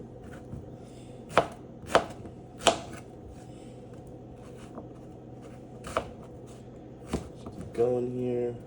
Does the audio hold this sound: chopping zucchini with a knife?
yes